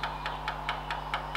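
Loose valve tappet rocking on an International B276 tractor engine, a faint steady ticking at a regular quick pace over the low idle hum of the running engine, heard close up.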